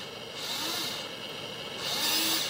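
The motor of an RC airsoft battle tank revs in two short whirring bursts, a close high-pitched electric whine that swells, eases, then swells again, with no one speaking.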